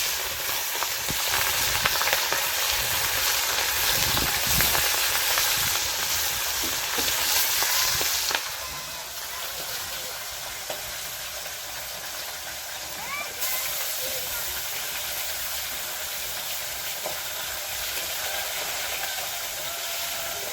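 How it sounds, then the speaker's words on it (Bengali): Local freshwater fish frying in oil in a pan, made for a broccoli and fish vegetable dish, giving a steady broad sizzle that runs the whole time and drops a little in level partway through, with a faint voice now and then. "তাহলে আমি এখন মাছগুলো ভেজে নিচ্ছি।"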